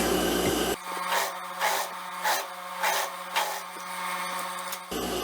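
Sewing machine running a close topstitch along the edge of a bias binding on a pantacourt jumpsuit, a steady mechanical whir with rhythmic rubbing pulses lasting several seconds, alone with no talk.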